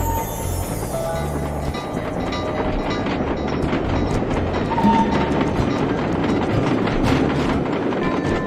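Train rolling along rails in the video game Sly Cooper 2, a continuous rumbling clatter with rhythmic clickety-clack and occasional faint squeals, loud and steady throughout.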